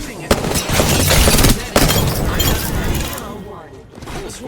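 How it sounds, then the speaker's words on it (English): Gunfire from enemies in the Apex Legends video game, loud bursts of shots and shattering impacts that are dense for the first few seconds and then fade into quieter game noise, with talk mixed in. "The enemies are shooting at me."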